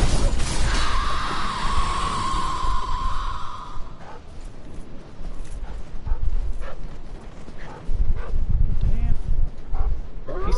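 A dog in the Dark Souls 3 game barks and yelps in short bursts early on, followed by whimpering, scuffling and combat noises as someone talks and sighs over it.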